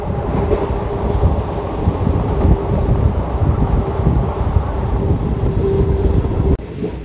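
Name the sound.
Tirupati–Secunderabad Vande Bharat Express train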